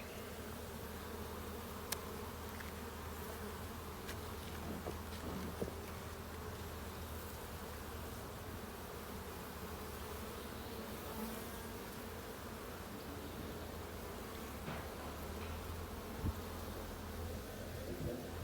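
Honeybees swarm around an open hive during a beekeeping inspection in Norfolk, a dense steady buzzing filling the air throughout with occasional faint knocks and no clear talking.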